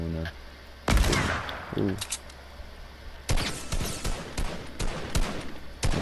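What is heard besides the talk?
shotgun fire in Fortnite video game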